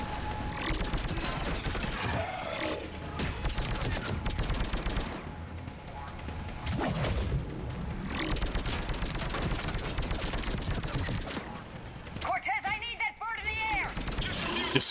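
Rapid bursts of automatic and single-shot gunfire from the video game Mass Effect 3, loud and dense across most of the stretch, mixed with game voices and a player talking.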